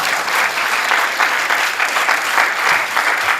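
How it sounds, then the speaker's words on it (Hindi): Loud, sustained applause from a theatre audience in Lucknow after a Hindi stage play performed by a visiting troupe from Udaipur, dense clapping filling the hall without a break. "एक बार लखनऊ की तरफ से जोरदार तालियां हो जाती हैं"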